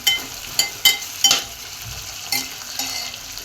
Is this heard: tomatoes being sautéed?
yes